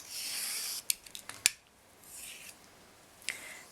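Scissors snip waxed beading thread in a few sharp, close clicks, with soft rustling of the thread before and after the cuts.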